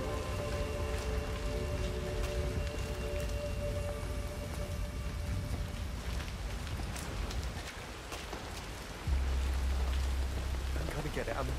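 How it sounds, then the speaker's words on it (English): Rain falls steadily in Hitman World of Assassination, a broad wash of patter and drops that shifts slightly partway through, with a low tonal hum underneath and muffled sounds in the background. "I'm never going out in the rain again."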